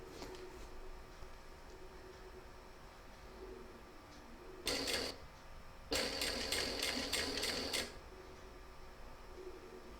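A sewing machine stitches blue-threaded bias binding onto a reversible quilt in two loud bursts, one short and one longer and steady, over a quiet room background.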